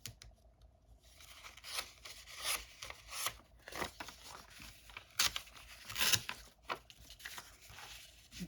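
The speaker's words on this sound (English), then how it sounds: "Tearing." Paper is torn by hand for a paper bag pouch craft, heard as close, quiet rips and rustles in short bursts with soft crinkling between them.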